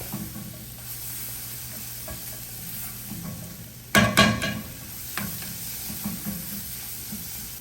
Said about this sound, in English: Stir that up, let the cumin kind of bloom